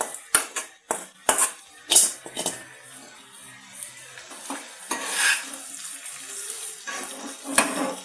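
Ladies finger palya stirred as it fries in a pan, a utensil scraping and clacking against the metal in quick strokes over a steady sizzle, close and fairly loud with no talk.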